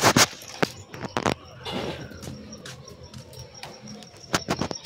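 Pigeons coo softly in the background amid sharp clattering bursts and wing flutters, with irregular taps close by.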